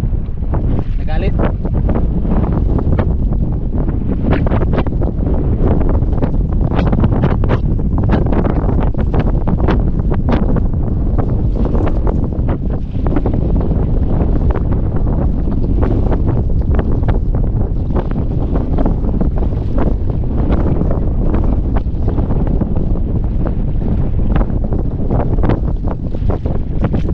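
Strong Amihan monsoon wind buffets a microphone at sea near a boat, a loud, continuous roaring rush with gusting surges throughout, and voices faintly mixed in under the blast.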